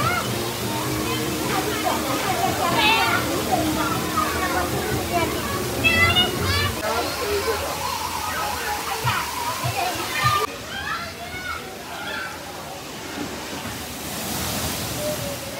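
Water splashes and pours steadily from a shower at an amusement park in Malappuram, a continuous wash of spray with children's voices and chatter mixed in throughout.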